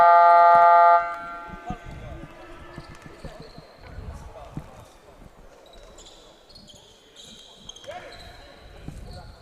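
A basketball game buzzer at a tournament in Jianyang, Chengdu, China sounds loud and steady for about a second at the start, then drops away to arena crowd noise, squeaks and play-by-play talk.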